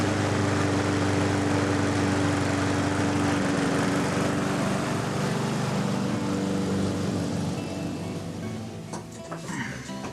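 A petrol lawn mower cutting grass gives a steady, close engine drone with a constant hum that holds for the whole stretch and eases slightly near the end. No one speaks.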